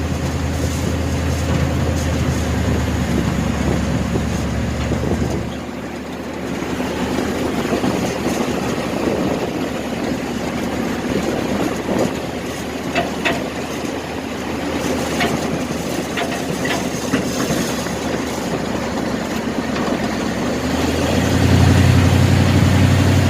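A 1967 Chevelle's 396 big-block V8 runs continuously with a deep, steady rumble heard close up in a garage, idling with slight surges in level and a louder swell near the end.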